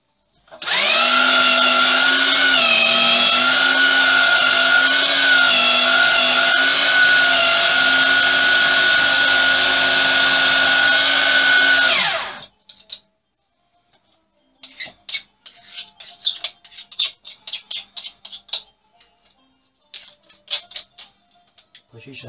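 A countertop blender whirs steadily for about twelve seconds, blending chickpeas with lemon juice into organic hummus, then stops abruptly; light clinks and scraping follow in the quiet afterward.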